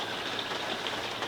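Rain falls steadily outside a caravan, a dense even hiss of drops with no pauses, close and fairly loud for the whole short stretch.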